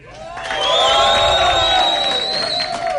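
A seminar audience cheers and claps loudly, a sustained crowd roar with shouting and applause that swells within the first second and holds steady throughout.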